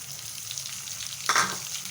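Spice-stuffed chili peppers sizzle and crackle in hot oil, with a sudden burst of louder spitting as they hit the pan.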